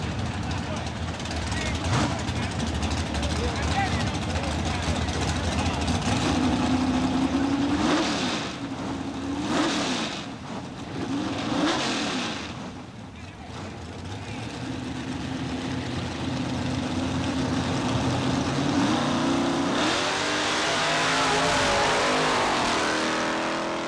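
Drag race cars, including a Chevy Nova and an Oldsmobile 442, roar loudly at a dragstrip in a continuous engine blare that swells and fades as they pass, under an announcer's voice over a loudspeaker.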